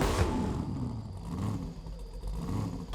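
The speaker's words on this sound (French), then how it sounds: "Je démarre l'engin." A video game car's engine roars and revs continuously for about three seconds, a loud, rough, growling drone with clattering texture.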